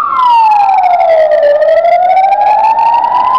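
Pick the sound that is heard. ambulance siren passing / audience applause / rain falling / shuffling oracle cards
ambulance siren passing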